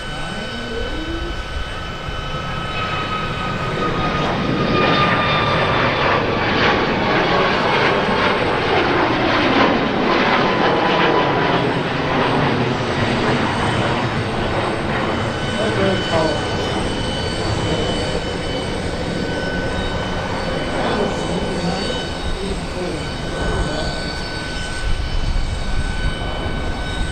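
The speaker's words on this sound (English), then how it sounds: "737 Max 9, I believe." A Boeing 737 MAX 9 jet at Harrisburg airport at night roars steadily for the whole stretch, a loud sustained engine whine and rumble with drifting tones and a slow pitch sweep as it passes, with some faint radio chatter beneath.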